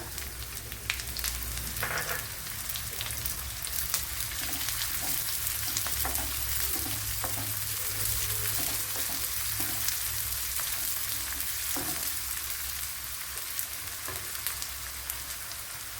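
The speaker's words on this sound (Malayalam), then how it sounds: "അതിലേക്ക് ഒരു ആറേഴ് കുഞ്ഞുള്ളി ഇതുപോലെ അരിഞ്ഞിട്ട് കൊടുക്കാം" Shallots sizzle and crackle steadily in hot oil in a clay pot, a continuous close frying hiss with occasional pops, no voices.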